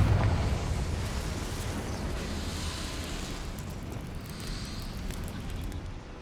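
Confringo fire spell blasting in the Hogwarts Legacy video game, a sustained roaring, rumbling burst with crackling hiss that stays loud and steady for several seconds before easing slightly.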